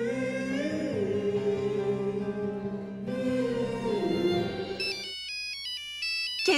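A telephone ringtone plays on its own for several seconds, a steady melodic electronic tune that shifts to a brighter repeating beeping pattern near the end, with no voices.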